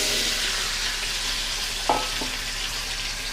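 Cucumber slices fry in hot oil left over from frying hilsa fish, a steady close sizzle broken by a couple of sharp clinks from a utensil against the pan.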